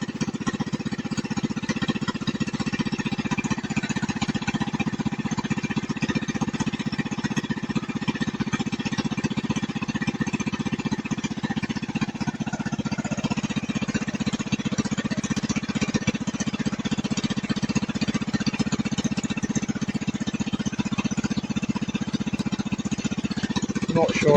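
Steady motor drone from a water well drilling rig boring through clay and rock, running continuously and fairly loud at close range, with a slight shift in tone about halfway through.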